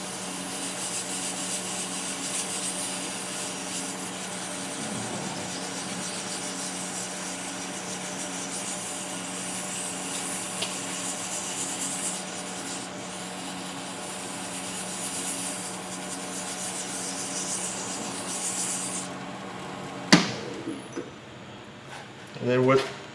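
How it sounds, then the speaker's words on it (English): Sandpaper rubs against an acrylic pen blank spinning on a lathe, giving a steady hissing scrape over the lathe's hum, with a few clunks near the end and a person talking now and then. "I'll do it with the lathe on, and then I long sand it with the lathe off"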